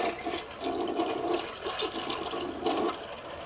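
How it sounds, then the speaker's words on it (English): Household toilet flushing after a scrub with a toilet brush: a steady, close rush and gurgle of water lasting several seconds, with swirling surges and no talking. "just go ahead and flush it"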